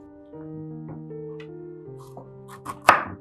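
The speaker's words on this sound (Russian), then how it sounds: "Для приготовления тыквенного пюре я разрезаю тыкву" A few sharp knife chops into a firm pumpkin near the end, preceded by sustained tonal background music.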